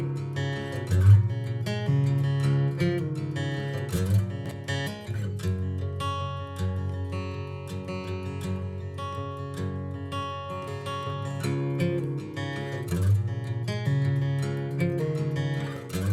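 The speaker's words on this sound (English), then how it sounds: "it apparently is creating the illusion where your guitar is being played in the Ocean Way Studios recording room" Guitar played with Ocean Way Studio B room reverb, strummed chords and picked notes ringing out with a lush, spacious tail, steady and fairly loud, with no talking over it.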